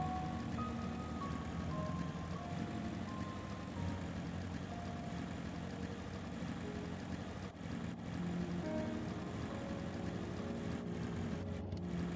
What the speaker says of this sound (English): Think she can't hear my motorcycle.